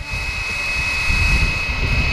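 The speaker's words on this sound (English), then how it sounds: "the main rotor system will gradually accelerate until it reaches the specific preset RPMs configured in the flight controller" Main rotor of a Flywing BO 105 RC helicopter with GPS spinning up, giving a steady high-pitched whine over a rising motor hum, close and loud with no talking.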